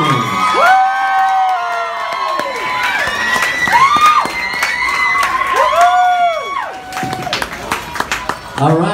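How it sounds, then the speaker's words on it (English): A crowd cheers, whoops and claps for a school rock band on stage, loud, continuous and lively, with high excited shouts and whistles rising and falling throughout. "Guys, one last round of applause."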